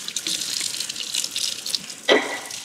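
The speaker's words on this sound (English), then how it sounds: "Let's give it another bit of a rinse." Tap water runs steadily into a sink while developed black-and-white film is rinsed after coming out of the developing tank, a close continuous splashing hiss with a brief louder gush near the end.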